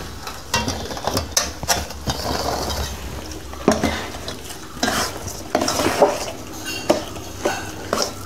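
Rava burfi mixture is scraped and spooned onto a plate, giving a series of close metallic scrapes, clinks and soft thuds of a utensil against cookware at an irregular pace, with no talking.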